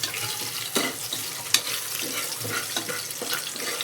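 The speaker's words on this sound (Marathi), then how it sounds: "अद्रक फ्राय होऊन द्या" Ginger frying in already-hot oil, a loud continuous crackling sizzle with a few sharp pops and spatters close by.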